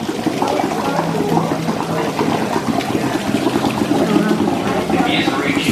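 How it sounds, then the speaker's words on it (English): Indoor waterfall at the SEA LIFE Blackpool aquarium, a steady broadband rush of falling water running throughout, mixed with crowd chatter and echoing indoor ambience. "I do like the waterfall here as well."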